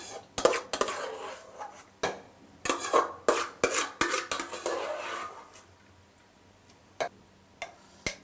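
Rice is spooned onto chicken biryani in a pot with a series of sharp metallic clinks and scrapes of a utensil against the vessel, irregular taps close up with quiet gaps between.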